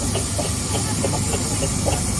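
A restored steam traction engine at a West of England steam rally gives off a continuous loud hiss of steam, with faint rhythmic pulses beneath the steady broadband rush.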